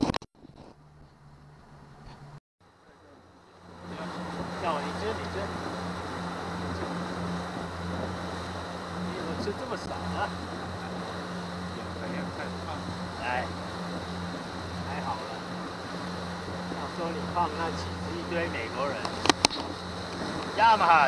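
A boat powered by a 2019 Yamaha 70 hp outboard motor cruises steadily near Sandy Point State Park, a continuous droning hum with wind and water noise after a quiet start.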